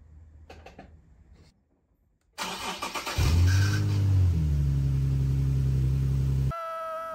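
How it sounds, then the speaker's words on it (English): Nissan 370Z with a newly replaced fuel pump and low-temperature thermostat starting up: a few clicks and a pause, then the starter whirs, the engine catches with a rising rev and settles into a loud steady idle, close. "put the battery back on and start this thing up"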